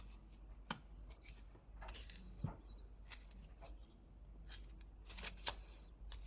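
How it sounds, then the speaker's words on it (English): A whittling knife carves a V cut into wood for a simple reindeer figure, giving a series of short, dry scraping and slicing strokes at an uneven pace, close up and quiet with no talking. "we can make a V cut right here"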